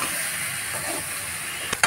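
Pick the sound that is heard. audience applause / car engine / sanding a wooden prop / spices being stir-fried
spices being stir-fried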